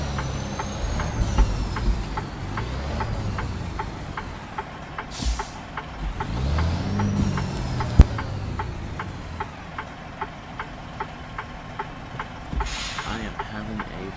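Truck engine in American Truck Simulator, a CR England rig hauling ice cream, idling and rumbling steadily with a low drone, a sharp air-brake hiss bursting out twice, near and fairly loud throughout.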